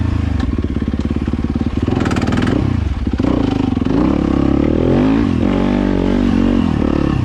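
A Yamaha YZ250FX dirt bike engine drones loud and close on a trail, with steady revving that briefly drops and stumbles mid-way as a gear is missed, then rises again with rattling clatter.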